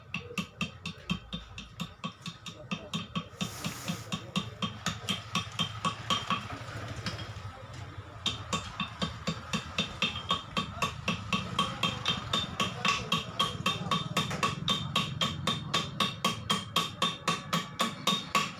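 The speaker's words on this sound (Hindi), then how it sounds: "तो हथौड़ी से ठोक के ही बिठा लेते हैं इसको।" Hammering a primary gear onto a Bajaj Platina motorcycle engine: a long run of steady, evenly spaced metallic blows, close and sharp, continuing for nearly twenty seconds without talk.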